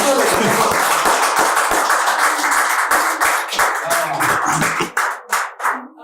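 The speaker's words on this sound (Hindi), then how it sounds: "दिल खुश होगा तो ताली बजा दे एक बार बढ़िया से" Clapping from the audience at a Hindi poetry gathering, a burst of distinct hand claps that thins out toward the end into scattered individual claps, with some voices mixed in.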